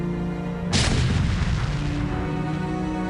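A StarCraft siege tank fires a single heavy booming shot at a Protoss assimilator, the sharp blast rolling into a long low rumble that fades slowly, with no talk over it.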